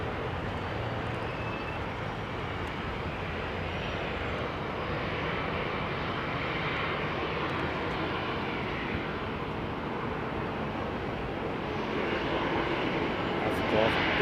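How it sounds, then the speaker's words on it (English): A Boeing 747 airliner flies low over Heathrow, its engines a broad, steady jet roar that stays loud throughout and swells slightly at the end, with people talking underneath. "Just giving a nice shot, low lander, 747 heading southeast."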